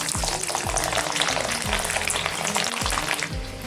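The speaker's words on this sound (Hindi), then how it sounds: "तो फ्रेंड्स इसी तेल पे थोड़ा सा लहसुन ऐड कर देंगे।" Garlic fries in hot oil in a kadai with a steady, close crackling sizzle and repeated scraping stirs, no voices.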